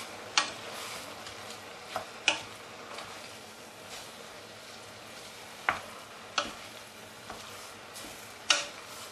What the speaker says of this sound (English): Just mix them all in together, so the leek and the pork is all cooked